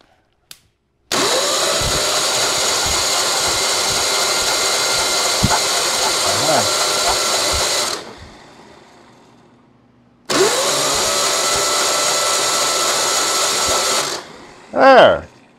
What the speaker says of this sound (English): The starter's a bit woggly sound, not woggly sounding, but a little bit grindy sounding.